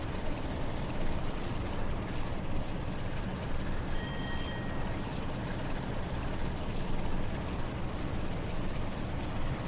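A freight train from Train Sim World's Cargoline Volume 5 Nuclear content rumbles steadily in a loud, unbroken wash of engine and track noise, with a brief high beeping tone partway through and no talk.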